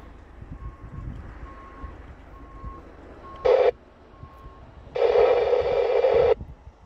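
A high rail truck reversing near a CSX derailment site in Sterling, Ohio gives steady, evenly spaced mid-pitched backup beeps, interrupted by two loud bursts of rushing, hissy noise, the second lasting over a second.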